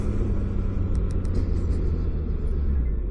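Steady low engine rumble from a motorcycle under way on a ride, a continuous broadband roar with wind noise, close and loud with no voices.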